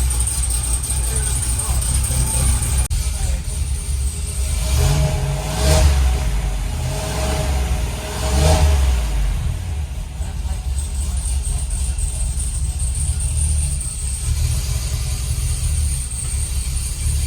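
An Escalade's swapped LT4 V8 idles with a low, steady rumble through stock exhaust, rising briefly in a couple of mild revs, fairly quiet and smooth, with people talking over it.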